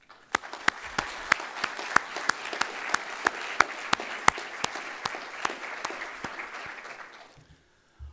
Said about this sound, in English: I think we should recognize our graduates for their hard work with a round of applause